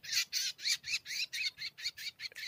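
Swiftlets calling near a nesting house, a rapid rhythmic series of about a dozen harsh, buzzy chirps repeating evenly, close and fairly loud with no talk.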